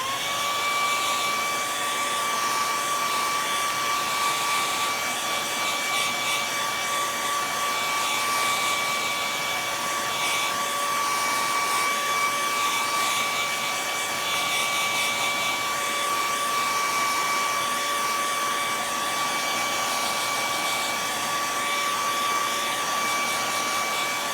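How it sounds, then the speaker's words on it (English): A blow dryer drying a clear top coat on a chalk art piece runs steadily for the whole stretch, a loud, even whoosh with faint tonal whine and no pauses. "I'm going to give it another quick blow dry."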